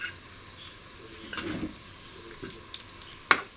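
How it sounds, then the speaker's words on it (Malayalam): Ginger garlic paste fries in oil for a Kerala-style chicken curry, giving a quiet sizzle with brief stirring scrapes and a sharp utensil clink near the end. "ഈ ജിഞ്ചർ ഗാർലിക് പേസ്റ്റ് അതിൻ്റെ പച്ചമണമൊക്കെ മാറി ഒന്ന് ജസ്റ്റ് ഒന്ന് ഫ്രൈ ആയി"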